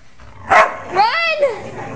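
A small dog barks and yips while giving chase, a sharp bark near the half-second mark followed by a higher whining yelp, with people talking over it outdoors.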